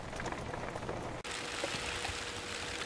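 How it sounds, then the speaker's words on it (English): Rain falling outdoors, a dense steady patter of drops on surfaces, fairly faint and continuous with a brief cut partway through and no talking. "Oh, the rain's coming good now."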